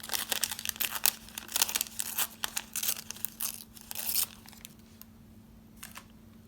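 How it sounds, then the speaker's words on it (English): Paper being torn by hand for a junk journal in a passport traveler's notebook, a run of close, crisp ripping and crinkling bursts over about four seconds before tapering to quieter rustles, with a steady low hum underneath. "I'm gonna rip some here."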